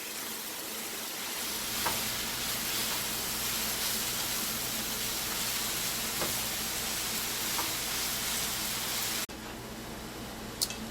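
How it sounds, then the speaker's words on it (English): Spinach cooks down in a pan with a steady, even sizzle and hiss of frying, a few faint clicks now and then and a slight drop in level near the end, with no talking. "So I'm going to put half of the bag in there first and let it cook down."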